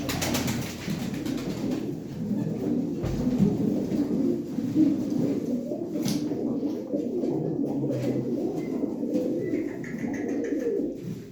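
Domestic pigeons coo softly and continuously in a loft, a low murmuring chorus of several birds close by, steady throughout with occasional wing flutters and rustles.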